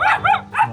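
A dog gives three quick barks in a row, close and loud, with no one talking over them.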